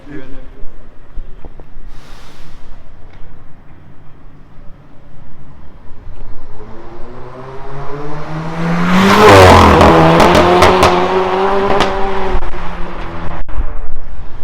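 A Seat Leon 1.4 with a downpipe and remote-controlled exhaust idles, then revs hard with a rising, raspy exhaust roar that peaks and falls back, sounding close and loud.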